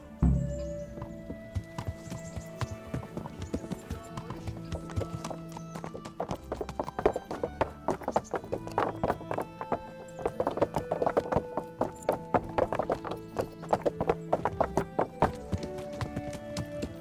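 A horse's hooves clip-clop in a quick, steady galloping rhythm in the video game Kingdom Come: Deliverance, close and fairly loud, with faint background music running underneath.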